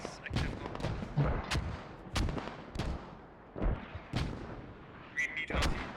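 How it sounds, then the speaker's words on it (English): Artillery fire in the tactical shooter game Squad, a series of loud booming blasts and crackling impacts repeating every second or so, with distant rumbles and occasional radio-like chatter mixed in. "Artillery is active now."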